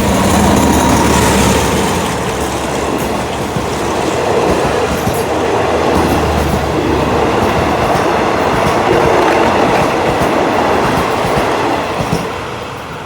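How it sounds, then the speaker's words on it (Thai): An Alsthom diesel locomotive (number 4120) hauls express train 84 from Trang to Bangkok under an overpass. A loud, close, continuous roar of engine and rolling wagons comes with clickety-clack and some wheel squeal, fading slightly at the end. "ทำขบวนด่วนที่84นะครับ ตังกรุงเทพนะครับ กำลังลอดสะพานยกระดับนะครับ"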